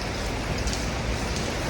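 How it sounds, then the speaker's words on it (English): Rain falling while cycling through the Montmartre and Pigalle streets of Paris, a steady dense hiss of drops filling the whole clip with no voices. "It's raining today in Paris"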